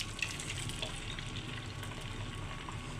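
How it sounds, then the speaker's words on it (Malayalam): Beaten egg poured into a hot pan sizzles steadily, a continuous close frying hiss with faint stirring and no voices. "കറക്കി ഈ മുട്ട നമുക്ക് അതിലേക്ക് ഒഴിച്ചു കൊടുക്കാം."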